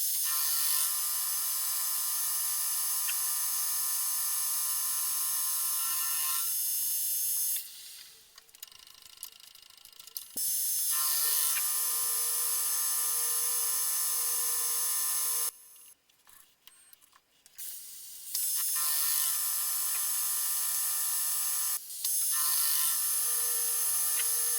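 An indexable V-groove cutter takes repeated slotting cuts, giving a steady high-pitched whining chatter in long passes, with quieter gaps where the cutter pauses between cuts.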